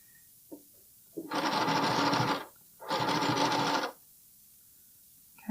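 A sewing machine stitches elastic onto bralette fabric in two loud, steady runs of about a second each, separated by a short pause, with faint handling noises around them.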